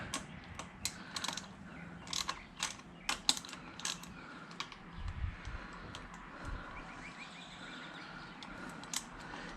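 A 10mm ratchet tightens handguard bolts on a WR250R motorcycle, giving bursts of sharp, fast clicking separated by short pauses, close and crisp with no talking.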